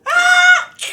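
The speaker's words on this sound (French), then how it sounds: "Cris perçants de femmes qu'on étrangle." A woman's piercing scream in a staged comic sketch, one loud sustained shriek of about half a second followed by a shorter breathy cry.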